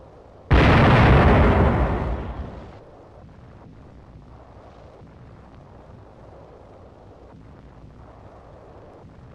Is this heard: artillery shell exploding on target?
yes